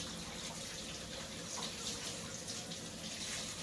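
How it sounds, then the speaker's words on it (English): Tap water runs steadily over a piece of corned beef being rinsed, a continuous broadband splashing hiss at close range with no voices. "You could probably hear me rinsing this off."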